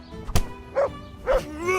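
Dog barking in a video game: a sharp thump, then two short yelping barks spaced about half a second apart, with game sounds around them.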